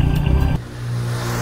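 A kei car passes on a narrow country road, its mid-pitched engine drone swelling loud and close, then settling into a steady hum as it goes by, heard over motorcycle engine noise without any talk.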